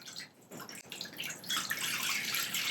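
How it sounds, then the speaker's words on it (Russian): Water runs from a tap into an ordinary frying pan, a close splashing, gurgling stream that starts softly, briefly falters, then grows fuller and steady, with no voices. "наливаю в нее воду"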